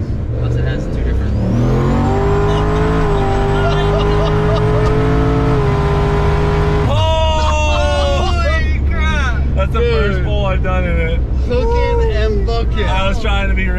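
A turbocharged sleeper Mercury Marauder with a stock engine and transmission accelerates hard, its engine note climbing through a long pull, then shifting and rising again, loud and close with excited voices shouting over it.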